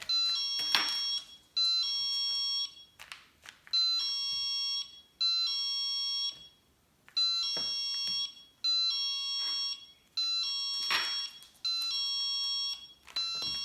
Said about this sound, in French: c'est une alarme, c'est vraiment une alarme.